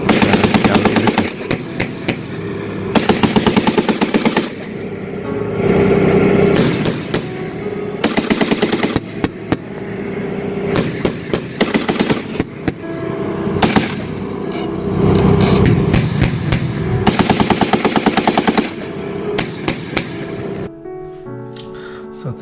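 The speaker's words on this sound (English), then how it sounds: "You get 25mm in the background going boom boom boom" A 25mm cannon fires on an army live-fire range: loud, heavy booming bursts in repeated strings, separated by short pauses, echoing across open ground.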